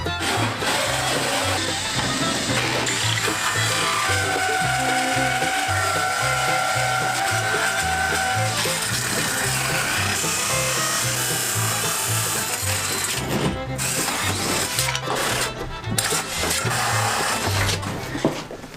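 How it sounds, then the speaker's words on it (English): Continuous loud power-tool whine with a rhythmic low chugging as a drill bores holes for recessed can lights through a wooden kitchen ceiling in an early-1900s farmhouse, steady for most of the stretch, with brief dips near the end. "now I'm gonna go downstairs and drill the holes for the can lights in the ceiling"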